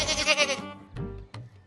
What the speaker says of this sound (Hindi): यू बकरी खड़ी है, इसे चुरा ले क्या?